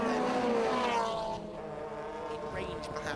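Mazda MX-5 race cars in a club championship round at Croft power through the chicane, engines loud and close with revs dropping then rising again, under a commentator's voice.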